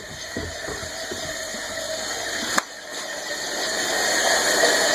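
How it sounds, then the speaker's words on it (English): A household water softener kicking on and running, a steady mechanical hum and rush of water that holds through the clip, briefly interrupted by a sharp click partway through. "Oh, water softener's never kicked on before."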